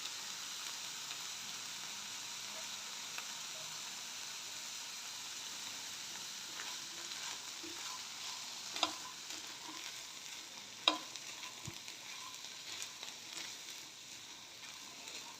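Black chickpea salad being stirred and mixed in a bowl, a faint, steady soft rustle with a few light clinks of the utensil, quiet and close with no talking.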